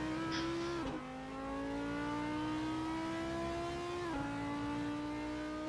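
A GT3 race car in a racing video game at Le Mans holds a loud, close engine whine that climbs steadily and drops sharply with two distinct upshifts, no talking.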